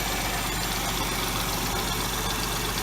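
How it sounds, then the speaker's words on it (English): A 2006 Hyundai Tiburon with the 2.7 engine idles steadily up close, a constant hum carrying a faint, even ticking from the engine, with no voices. "There is still a slight ticking in the engine."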